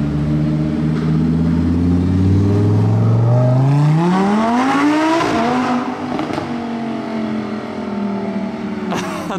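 A car's engine revs up hard at the Monaco Grand Prix, the pitch climbing steadily to a loud peak, then dropping back to a lower, steadier drone before a short sharp burst at the end.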